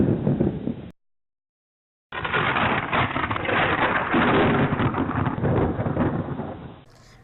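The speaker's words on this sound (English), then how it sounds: "The sky looked angry and the thunder was rumbling." Thunder rumbles in a steady, rolling wash through a rainstorm in a forest, broken once by a second of silence before the low roar returns and carries on.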